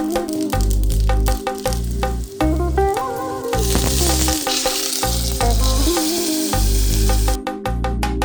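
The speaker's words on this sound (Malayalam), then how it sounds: "നമ്മൾ കടുക് താളിക്കുകയാണ് കേട്ടോ" Mustard seeds crackle and sputter as they are tempered in hot oil for a curd and coconut curry at an Onam feast, the hiss rising midway under loud, steady background music.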